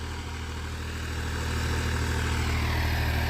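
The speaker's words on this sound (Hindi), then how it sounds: "और दोस्तों ट्रैक्टर देखो" A tractor engine drones steadily on a foggy road, a constant close low rumble with no breaks.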